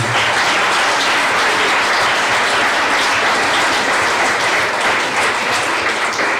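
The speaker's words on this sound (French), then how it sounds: "on peut encore applaudir André" An audience at a mayor's New Year address in Verlinghem claps loudly and continuously, a dense, even wash of applause that holds steady throughout.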